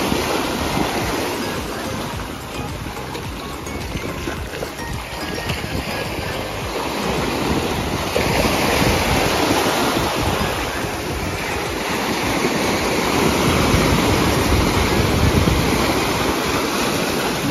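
Continuous roar of ocean surf breaking and receding on a Japanese shore, with some wind buffeting the microphone; the wash builds gradually toward the end.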